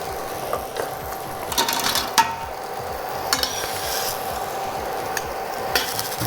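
Tempeh is cooked in a pan, giving a steady close hiss broken by scraping and clicking stirring sounds, with no talking.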